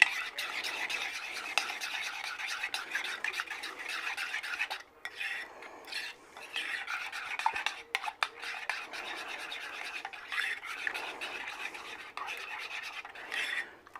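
Horseradish sauce being stirred in a bowl with a utensil, a steady scraping and rubbing that runs almost continuously, briefly pausing partway through, close and fairly quiet with no talking.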